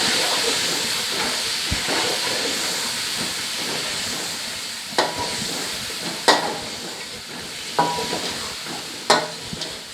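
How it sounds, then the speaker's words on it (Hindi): Chicken for Afghani pulao fries in a pot with garam masala and dried plums, giving a steady close hiss and sizzle with occasional sharp spatula scrapes and stirring clacks, no talk. "अब मज़ीद हमने इसको भून लेना है।"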